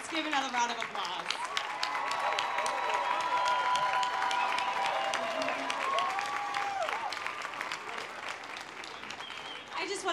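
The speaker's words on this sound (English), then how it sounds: "Let's give another round of applause." Sustained crowd applause at an AIDS Walk New York opening ceremony, a steady wash of many hands clapping that carries through with voices mixed in.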